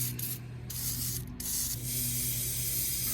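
Aerosol degreaser hissing from a can in short bursts, then a longer steady spray, loud and close, while cleaning parts on a 1989 Ford F250.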